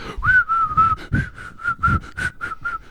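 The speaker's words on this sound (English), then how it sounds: "Everyone whistles to themselves." A person whistles a simple tune close by, a series of short clear notes at a fairly steady pitch with breathy pauses between them.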